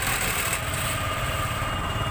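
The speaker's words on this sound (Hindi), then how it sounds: "थोड़ा सा इंजन को हीट कर लें।" A TVS Jupiter scooter engine idles steadily to warm up, a continuous close mid-pitched hum with no talk over it.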